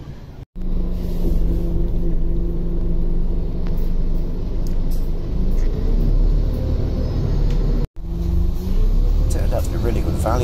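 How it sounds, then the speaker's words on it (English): Steady low engine rumble inside a moving bus travelling from King's Lynn to Spalding, continuous and fairly loud, with two brief dropouts and no clear speech. "get a bus from King's Lynn to Spalding now"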